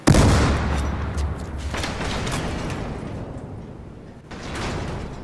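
Gunfire in the shooter game Battlefield Hardline, a sharp opening shot followed by a bursts of rapid firing and impacts, loud and close, with a brief lull before another volley near the end.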